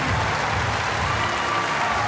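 A standing crowd applauds after a Tomljanovic versus Halep second-round match at the 2021 Australian Open, giving dense, sustained clapping that fills the arena at even loudness throughout.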